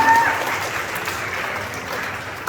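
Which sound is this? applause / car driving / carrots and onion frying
applause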